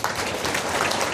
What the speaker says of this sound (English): Do me a favor and give yourselves a round of applause.